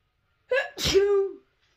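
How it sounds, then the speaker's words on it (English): A single loud, close sneeze with a short breath intake and a sharp burst, then a trailing voiced tail, isolated against silence. "I'm sneezing."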